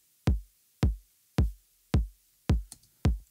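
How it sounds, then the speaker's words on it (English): Six evenly spaced 808 bass drum hits on quarter notes in a four-on-the-floor pulse, each a deep booming thump with a short decaying tail, alone and close. "And combined with an 808 bass drum"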